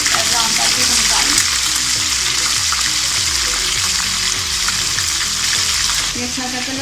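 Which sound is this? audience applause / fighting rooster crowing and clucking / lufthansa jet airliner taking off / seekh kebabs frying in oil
seekh kebabs frying in oil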